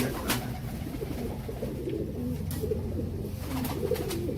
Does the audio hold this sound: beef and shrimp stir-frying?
no